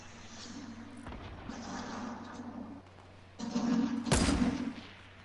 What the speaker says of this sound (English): I'm gonna snipe them.